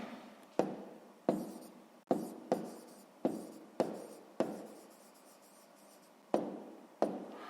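A pen writes on paper in a sixth-grade maths exercise, heard as a series of short, close scratching strokes, each starting sharply and trailing off, about eight in all, with no talk.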